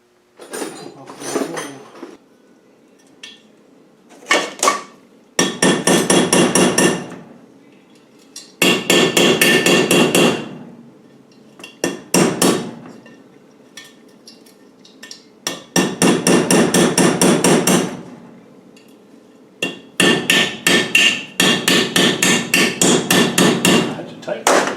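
A hammer strikes metal punches while a gearbox is reassembled, loud, sharp ringing blows in rapid bursts of several hits each, separated by short pauses and quieter taps, close to the listener.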